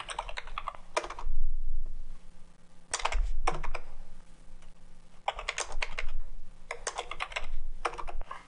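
Bursts of rapid computer keyboard typing while writing code, crisp close key clicks in several runs of a second or so, separated by brief quiet gaps.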